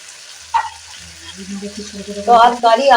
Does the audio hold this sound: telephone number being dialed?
no